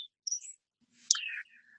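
Bird song at Edith Wharton Park, The Mount: a high, squeaky, electronic-sounding warble of bright chirps and a rising, twisting phrase like an irritated robot, clear and fairly close with short gaps between bursts.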